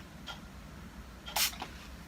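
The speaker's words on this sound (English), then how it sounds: "So this is the dog deodorizing spray, again in honey chamomile. Have a quick squirt." A dog deodorizing spray in honey chamomile scent gives one short, sharp hiss of a squirt, close to the mic, with fainter puffs before and after in a quiet room.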